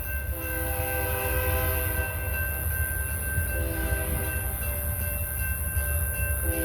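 BNSF freight train rolling past, a heavy low rumble of wheels and cars with a long tonal horn blast held throughout, loud and steady with no voices.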